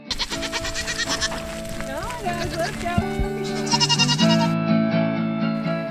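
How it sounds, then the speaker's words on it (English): Several goats bleat close by, wavering cries overlapping one another in quick succession. "yes, that was the sound of goats you just heard"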